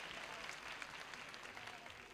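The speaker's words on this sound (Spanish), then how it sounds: "dale un aplauso" Faint, distant crowd applause at a concert in Estadio Obras in 1981, a steady continuous patter of many hands clapping under a slight hiss.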